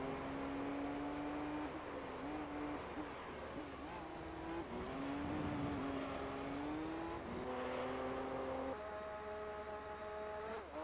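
A Nissan R390 race car in Gran Turismo 3 roars continuously at high revs, its engine note rising and dropping through gear changes, loud and up close throughout.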